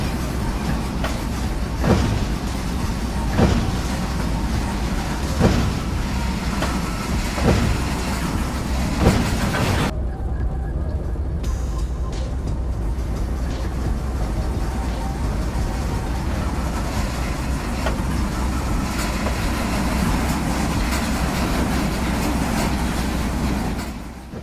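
A model train on a layout rumbles steadily with rhythmic clicking of wheels over track joints, a continuous mechanical roar that carries on without pause.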